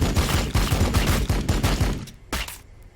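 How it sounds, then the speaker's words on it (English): Battle rifles firing in Warhammer 40K: Battlesector: a loud, rapid rattle of repeated shots for about two seconds, then a few isolated sharper cracks as the volley thins out, with no talking. "So let's test out our new battle rifles."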